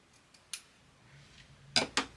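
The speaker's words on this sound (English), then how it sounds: "I'm going to use scissors to cut it out just because it'll be easier." A few crisp snips of scissors cutting out a fabric label close by, two louder cuts near the end after fainter clicks, in a quiet room.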